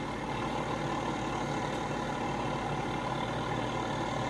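A tractor carrying heavy weight on the back runs its engine in a steady, continuous low drone that stays at a constant level throughout, with no talking.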